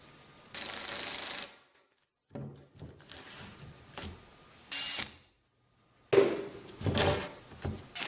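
Power drill driving heavy-duty, near lag-sized screws into a wooden board for a chainsaw mini mill clamp: three separate bursts of whirring drive with pauses between, the last longer and rougher as the screw seats.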